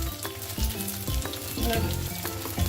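Jackfruit pieces coated in chilli and turmeric powder frying in hot oil, a steady close sizzle with stirring clatter and scraping, some voice-like tones faint in the background.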